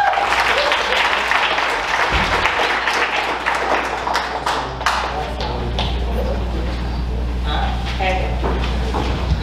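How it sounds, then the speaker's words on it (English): An audience breaks into sustained applause, a dense, even wash of clapping that carries on for several seconds with some voices mixed in. "So let's give Bree a round of applause."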